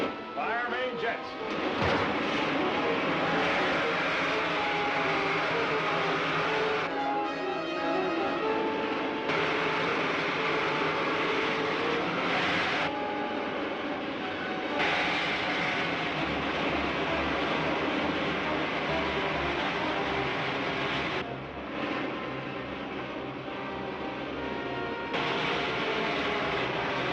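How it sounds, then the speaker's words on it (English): Loud, continuous roaring rush of rocket ship main jets firing, an early-1950s film serial effect, holding steady for the whole stretch with shifting bursts and a rumbling low end. "Fire main jets."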